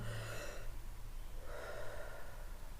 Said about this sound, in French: Essaye de respirer vraiment profondément.